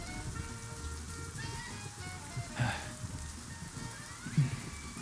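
Rain falls steadily as a soft, continuous patter on surfaces, with a couple of brief louder splashes or taps standing out over the hiss.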